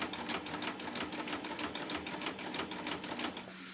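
A Baby Lock coverstitch machine stitches a hem with a plain hemmer foot, a fast, even mechanical chatter of needle strokes running steadily and close before slowing at the end.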